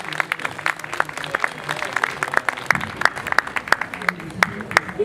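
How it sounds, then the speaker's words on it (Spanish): An audience at a literary tribute to the poet Enrique Verástegui at the FILT 2018 book fair breaks into applause, with crisp scattered claps over a murmur of voices and moderately close, irregular claps continuing throughout. "Un aplauso para..."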